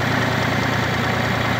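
An ISEKI TU1 diesel mini tractor engine idles in neutral with a loud, even, rumbling chug nearby, steady and uninterrupted.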